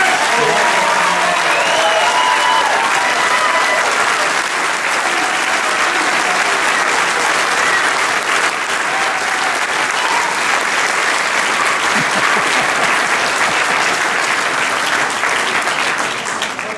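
A large crowd at a Democratic primary victory celebration claps and cheers loudly and steadily, a thick wall of applause sustained for the whole stretch with excited voices mixed in.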